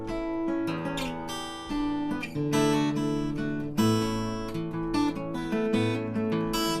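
Guitar strumming the chords of a song without a capo, at the lower original pitch, with a full and sustained ringing tone and no voices.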